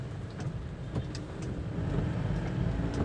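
Motor vehicles drive through a flooded street in Makassar, a dense, continuous rumble of engines mixed with water noise and occasional splashes, growing slightly louder toward the end.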